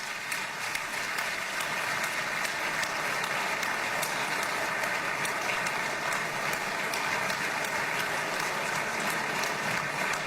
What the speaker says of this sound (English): The applause will continue.